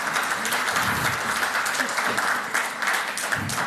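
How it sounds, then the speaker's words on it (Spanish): Strong audience applause at a city and territory seminar during an award presentation, many hands clapping in a full, even burst that holds steady throughout. "Nuevamente un fuerte aplauso"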